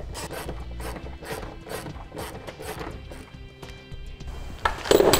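A spare tire crank on a vehicle is turned with a tool, giving repeated metallic scraping and ratcheting strokes at close range, with a louder clank near the end.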